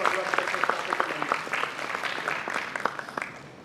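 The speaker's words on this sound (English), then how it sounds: "A big round of applause for School of Advanced Sciences." Audience applause at a National Science Day event for the School of Advanced Sciences, steady clapping across the room with dense crackle, a voice speaking over it.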